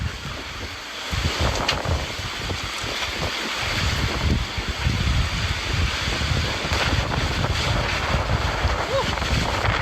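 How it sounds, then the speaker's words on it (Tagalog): Strong wind roars and buffets the microphone continuously in Daet, Philippines, with broad rumbling gusts and a voice briefly speaking underneath. "Lakas po ng hangin."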